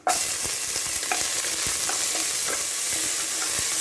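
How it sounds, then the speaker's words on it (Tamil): Sliced onions and bay leaf frying in a pan for ghee rice, a loud steady sizzle with regular scraping and tapping from a spoon stirring roughly twice a second, close up and with no voices. "இந்த பிரியாணி இலை, வெங்காயத்தை போடணும்."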